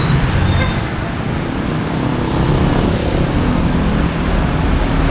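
A tricycle ride through road traffic, with a steady, loud rumble of engines and passing vehicles close by and no clear talking.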